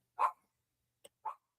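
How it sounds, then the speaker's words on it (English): A chihuahua barks indoors, two sharp yaps about a second apart with a faint click between, fairly close and alone with no talk. "Let me see if I can stop her from barking."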